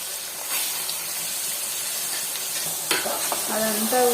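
Mutton liver sizzles and fries steadily in a hot pan as it is stirred, with a continuous close crackle and brief scraping near the end; no one speaks.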